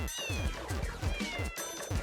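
Repeated meows from a house cat boss in the video game I Want come in quick succession, several calls layered over steady game music and effects.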